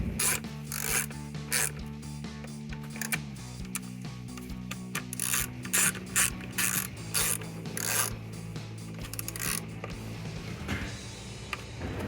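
Ratchet wrench running down ignition coil bolts on a 2011-2016 Ford Mustang V6, heard as quiet, close repeated clicking and rasping strokes in irregular bursts over a low background hum.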